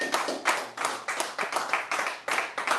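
Audience at a live stand-up comedy show in Toronto claps in a steady rhythmic beat, roughly a dozen sharp, evenly spaced claps heard close and clear without talk.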